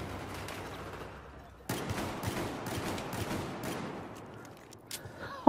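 Pistol shots in a Battlefield match crack out in a quick irregular string, fairly close but moderately quiet, mixed with distant gunfire and battle noise.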